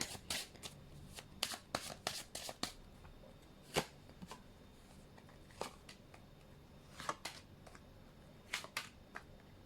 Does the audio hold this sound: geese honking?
no